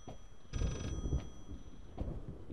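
A rotary phone's bell rings inside the horror video game Layers of Fear, one bright metallic ringing burst followed by quieter clicks and thumps, faint and slightly distant, with no talk over it.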